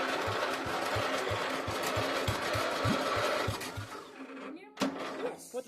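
A Murray 8/30 rear-engine riding mower with a swapped engine sputters to life in a fast, steady chugging rhythm, then cuts out near the end with a sharp clank.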